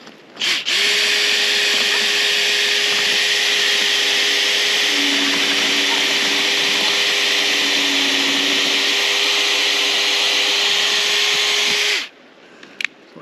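A power drill bores into hard ground to pre-drill holes for tent pegs, a loud steady whining drone for about eleven seconds with the pitch dipping under load midway, then stopping.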